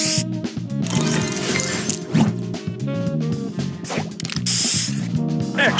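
Spray booster effect from the puzzle game Match Masters, a bright synthetic hiss and sparkle layered over busy, steady game music and chiming effects, loud and continuous throughout.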